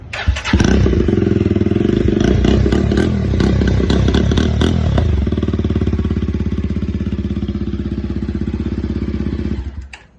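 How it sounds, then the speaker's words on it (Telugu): A Jawa 42 Bobber with twin exhausts starts and idles, its engine firing in a fast, even, loud thumping beat up close for several seconds before cutting off. "సైలెన్సర్ బీటింగ్ అయితే ఒకసారి వినిపిస్తా, వినండి."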